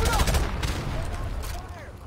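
Automatic rifle fire in Call of Duty: Modern Warfare Remastered rattles close and loud in a short sustained burst, with echoing combat noise trailing behind.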